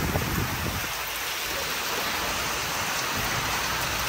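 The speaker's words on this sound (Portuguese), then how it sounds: "Gente, tá uns pingos grossos que vocês não tem noção." A sudden storm on a rural farm brings heavy rain with thick drops drumming loudly and steadily on surfaces, a dense hiss throughout with no voices.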